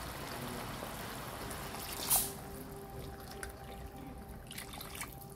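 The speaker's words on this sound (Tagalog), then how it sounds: "Tapos maglalagay tayo ng tubig." Water is poured into a cooking pot of pork adobo already seasoned with vinegar, making a soft, steady trickle throughout, quiet and close with a brief louder splash midway.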